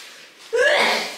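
A single short sneeze bursts out sharply, close and fairly loud, after a moment of quiet room tone.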